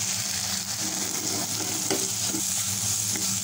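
Salt, black pepper, coriander powder and cumin powder being stirred together for a chicken and cream cheese sandwich filling: a steady, dense scraping hiss with small clinks, close and continuous, with no voices.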